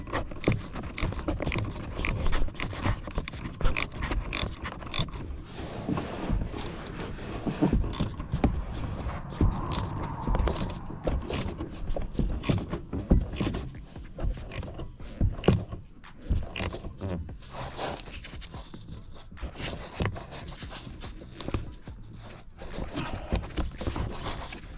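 Bolts on a BMW 5 Series rear strut are tightened with a ratchet, giving a long run of rapid clicking and metallic scraping up close, steady with brief pauses.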